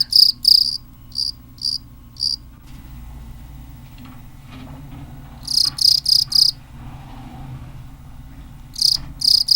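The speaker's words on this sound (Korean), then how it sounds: "우리에게 가장 친숙한 이 소리의 주인공은 귀뚜라미다." A cricket chirps in clusters of quick, bright pulses separated by pauses, close and clear with nothing else around.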